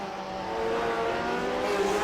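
Vintage Grand Prix race car engines at Circuit Zandvoort in iRacing's Grand Prix Legends rev hard, climbing in pitch as the cars accelerate through a corner, loud and close with no talk.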